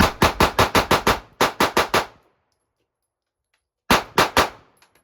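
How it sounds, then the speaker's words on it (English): A Sig Sauer P365 or Springfield Armory Hellcat pistol fires at a range: a quick string of about seven sharp, loud shots, four more, a silent pause, then three final shots. "We're going to keep shooting low."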